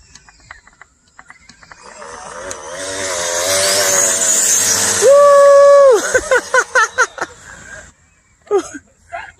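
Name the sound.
Traxxas XO-1 RC car speed run, blown tire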